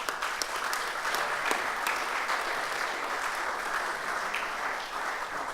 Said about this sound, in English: Can we show our appreciation with a round of applause?